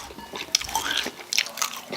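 Crunchy food is bitten and chewed up close during a casual snow-and-beer eating session, giving a short burst of crisp crunches and wet chewing that lasts about two seconds.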